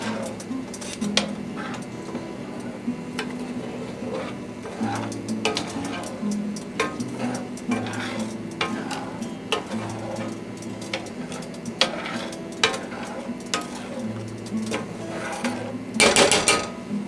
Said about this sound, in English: And then you stir it.